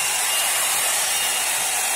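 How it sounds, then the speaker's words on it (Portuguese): An Avon hair dryer brush runs at a steady, constant intensity, its loud airy whoosh filling the clip without change and with no talking over it. "Barulho de secador mesmo."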